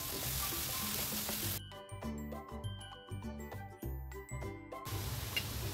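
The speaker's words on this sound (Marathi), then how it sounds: "एक मिनटं मी बारीक गॅसवर तर बीट वाफवून घेणार आहे।" Grated beetroot and French beans steam in a pan over a low gas flame with a soft, constant sizzle and hiss. In the middle, stirring brings light metallic clinks, and the sizzle returns near the end.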